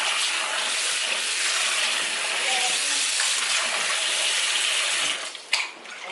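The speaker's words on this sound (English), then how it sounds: "So this is the last wash, and I'm using hot water to wash it." Hot water runs and splashes steadily over raw meat being washed at a kitchen sink, a continuous gushing hiss that briefly lets up with a clatter near the end.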